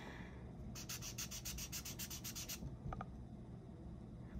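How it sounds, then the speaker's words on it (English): Chisel tip of an inexpensive alcohol marker drawn across paper in a quick run of about ten short, rhythmic scratchy strokes, close and fairly quiet, followed by a couple of faint ticks. "So I'm just gonna use the chisel end of this marker."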